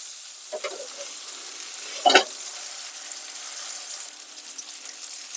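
Salmon fillet fries skin-side down in a hot pan, giving a loud, steady close sizzle broken by a brief clatter of a utensil against the pan partway through.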